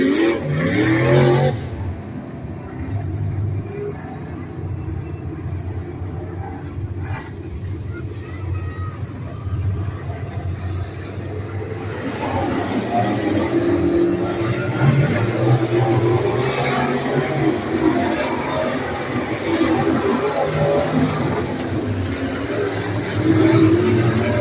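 Dirt track race cars run hot laps at Beckley Motor Speedway, engines roaring and revving continuously, some close and some farther around the track, with an announcer talking over them.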